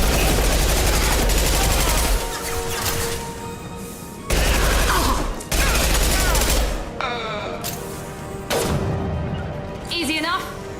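Bursts of heavy gunfire in Mass Effect Legendary Edition, including an impact shot, come as loud rapid volleys with sharp blasts and pauses between them.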